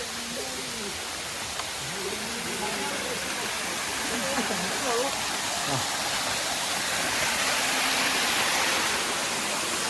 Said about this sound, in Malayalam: ഇതേ വെള്ളച്ചാട്ടം.